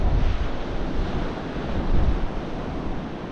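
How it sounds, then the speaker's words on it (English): Steady roar of wind and surf on Tunstall Beach under an overcast sky during a beach fishing competition, loud broadband rushing with wind buffeting the microphone throughout and no voices. "Weather changed, wind picked up, it's overcast,"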